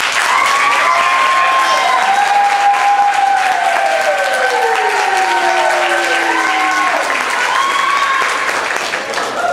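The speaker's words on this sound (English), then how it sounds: "So let's have another round of applause." A crowd at a high school Air Force JROTC awards ceremony gives loud, sustained applause, thick and steady from start to finish, with faint tonal whistles drifting through the clapping.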